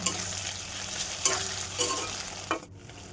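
Chopped onions, slit green chillies and ground spice paste sauté in a pan for a goat meat curry with papaya, a soft steady sizzle broken by a few scraping stirs, with no voices.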